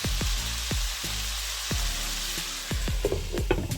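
Ground beef sizzles steadily in a pan, a close, even frying hiss broken by a series of regular knocks and scrapes as the meat is stirred, with a few louder clatters near the end.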